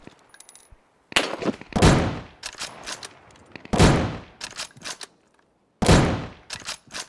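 Gunfire in the video game Deadside comes as several bursts of rapid automatic shots with sharp echoing cracks, separated by short quiet pauses.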